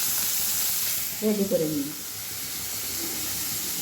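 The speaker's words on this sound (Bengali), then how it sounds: "পুঁটি মাছগুলো ভাজা হতে থাক" Puti fish fry in a pan with a constant crackling sizzle, briefly overlaid by a short spoken phrase partway through.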